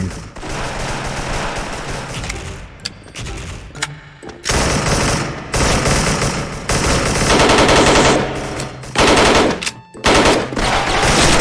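Airsoft AUG A3 Gen 2 rifle firing in a game: loud, dense automatic bursts with brief gaps, the rapid mechanical chatter dominating the whole stretch without speech.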